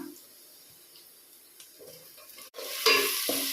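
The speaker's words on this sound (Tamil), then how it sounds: "நான் இப்போ வந்து இஞ்சி பூண்டு பேஸ்ட் ஆட் பண்ணுறேன் இதை போட்டு கொஞ்சம் நேரம் வதங்கட்டும்" Ginger garlic paste sautéing with onions in a pan for mutton biryani, a soft steady sizzle with stirring scrapes that grows louder and brighter near the end.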